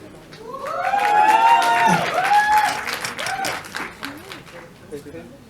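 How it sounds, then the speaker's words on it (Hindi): Audience at a music event clapping and cheering, loud whoops and shouted voices rising over applause, swelling early then fading, with talk emerging as the noise subsides. "एक बार जोरदार तालियां"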